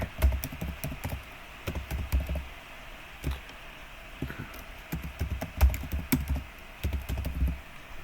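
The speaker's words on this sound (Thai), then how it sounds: "แล้วก็กรอกรหัสผ่านไป" A password is typed on a computer keyboard to log in with a Gmail account, producing close, irregular clusters of key clicks and taps with short pauses between bursts, with no voice present.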